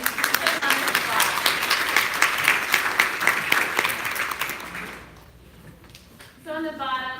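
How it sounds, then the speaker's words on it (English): A conference audience gives a round of applause, a dense burst of many hands clapping that fades out after about five seconds, followed by a voice speaking. "Let's give them a round of applause."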